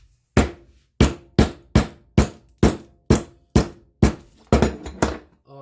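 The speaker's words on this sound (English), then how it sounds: "I take my trusty hammer here, and I just lightly" Ten sharp hammer taps, close and evenly spaced about half a second apart, each a crisp knock lightly crushing something hard.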